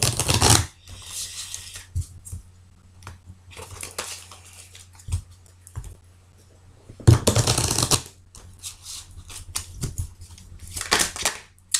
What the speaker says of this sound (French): je vais bien mélanger le jeu parce que je m'en étais servi tout à l'heure